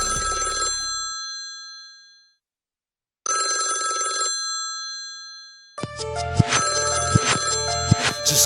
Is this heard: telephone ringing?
yes